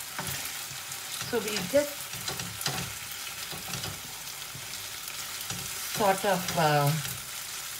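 Chicken and whole potato halves fry and get stirred in a pan for Anglo-Indian pepper chicken, a soft sizzle with scraping stirs, while a person talks over it.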